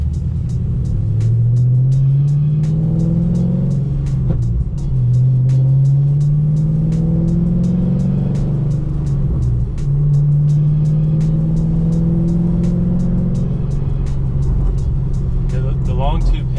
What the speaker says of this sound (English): this car sounds really good once it gets long tubes on it